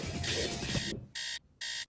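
In a film soundtrack, a loud electronic alarm clock beeps in bursts that come out of pulsing bass-heavy techno. It leaves two shorter clean beeps with silent gaps between them.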